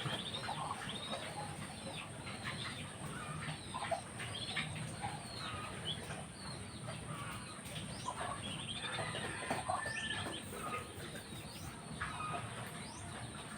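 Poultry calling near and far over steady outdoor background noise, with scattered quacks and clucks and occasional wing flaps.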